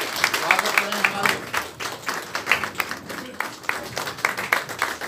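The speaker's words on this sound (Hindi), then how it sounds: "एक बार जरा जोरदार तालियों से" Audience clapping to welcome guests and party office-bearers at a lively Mahasangh birthday celebration, a steady patter of many hands with close, sharp claps sustained throughout under the murmur of the crowd.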